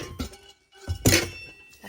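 Copper-bottomed pots and pans clink and knock together as they are handled, with a few close, short metallic hits and a louder clatter in the middle.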